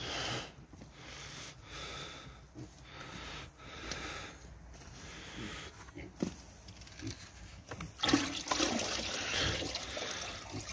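Water is poured into a wood-fired pălincă still (cazan) in Vâlcea, Oltenia, in December, to fill it until the cylinder is covered. A soft trickle and splashing sit among faint ambient noises, swelling into a fuller rushing pour near the end.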